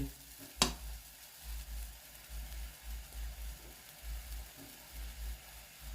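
Insects dry-roasting in a pan for a rural Thai meal: a soft, steady sizzle and stirring scrape close by, with one sharp clink near the start and low rumbling pulses underneath, no talk.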